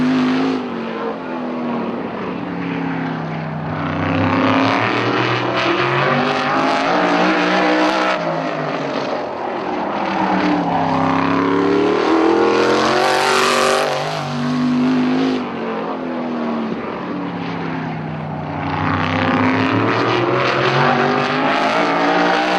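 An RMR SPEC LS3 race car engine revs and accelerates, rising and falling in long sweeping pitch swells over about twenty seconds, loud and close with no talking.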